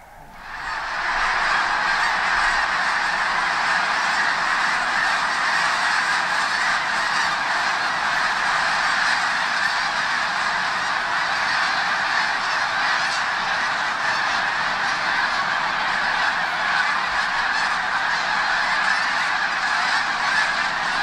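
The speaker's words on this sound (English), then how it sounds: "We've got a couple thousand snow geese" A huge flock of a couple thousand snow geese honks continuously on a foggy morning, a dense, loud, unbroken chorus of overlapping calls with no voices over it.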